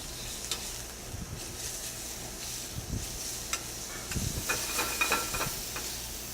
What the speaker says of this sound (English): you're just going to toss your shrimp in. Okay, now this is going to cook very fast